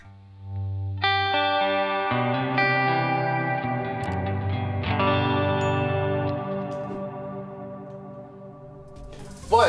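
Guitar triads ring out with heavy reverb, chords layered into a washy, atmospheric wash that sustains and blends over several seconds, played alone with no talking.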